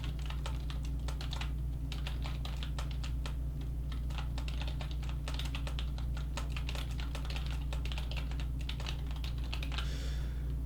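Rapid, irregular clicking of keys on a computer keyboard while writing a code comment, close and clear over a steady low hum, with no speech.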